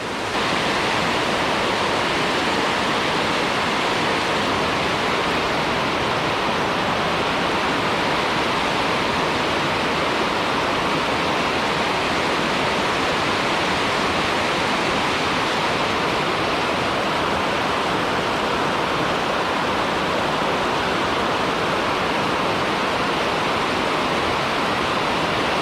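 Waterfall roaring steadily in a gorge in Ohio, a dense, continuous broadband rush of falling water that holds constant and close for the whole stretch, with no voices over it.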